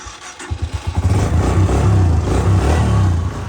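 A motorcycle engine idles with a chugging throb, then revs up and holds a loud, steady drone close by as it rides out of a village. The tyre is slightly low on air.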